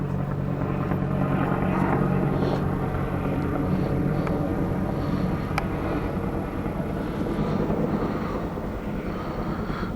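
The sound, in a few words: helicopter circling overhead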